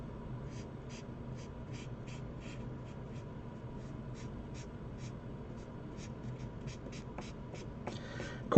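Rapid scratchy strokes of a coloring tool on paper, repeating steadily in short bursts, close and fairly loud with no talking.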